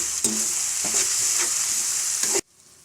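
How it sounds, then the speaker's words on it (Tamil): Tomatoes and bitter gourd sauté in a pan, with a loud, close, continuous sizzle and several sharp scrapes as a spoon stirs. The sound cuts off abruptly near the end. "தக்காளியும் பாவக்காயும் நல்லா வதங்கிட்டுருக்கு"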